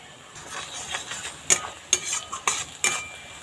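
Onion, ginger and green chilli frying in a pan, a soft steady sizzle broken by several sharp scraping stirs near the end, close and with no voices.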